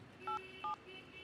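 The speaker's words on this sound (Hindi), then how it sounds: "चल एमडी को फोन लगा।" Two short touch-tone telephone dialing beeps in quick succession, clear and fairly close, over a quiet low background hum.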